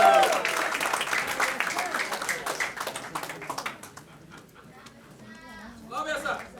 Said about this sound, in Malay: Satu tepukan gemuruh